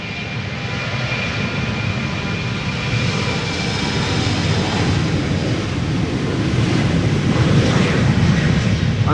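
A BA CityFlyer Embraer 190 airliner departs Amsterdam Schiphol for Newcastle, its jet engines roaring loud and near in a continuous, rumbling wash that slowly swells.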